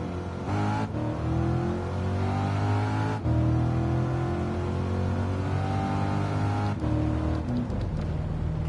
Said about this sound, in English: I'm gonna get up to 8th gear, still accelerating.